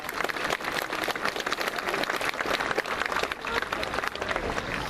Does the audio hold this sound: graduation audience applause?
yes